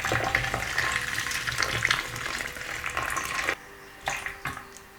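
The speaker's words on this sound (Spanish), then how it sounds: "ahora con mucho cuidado le vamos echando un poquito de agua" Water is poured carefully from close by into a bowl holding a candle, a steady splashing trickle for several seconds that stops abruptly, followed by a few small drips and clinks.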